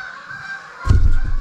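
A flock of around thirty geese honks at night, heard through an open window, the honking breaking out suddenly as a loud, close burst of overlapping calls after a quiet, humming stretch.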